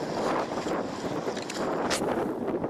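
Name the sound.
wind blowing on deck of minesweeper USS Hazard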